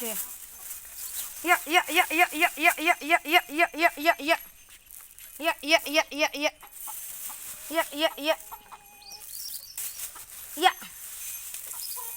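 Chickens cluck in repeated rapid bursts close by on a village farm in the morning, loud rhythmic runs separated by brief pauses, with occasional voices nearby.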